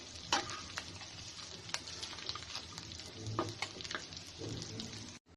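Beef frying in a pan crackles and sizzles up close, with repeated scraping and clattering strokes as it is stirred until browned.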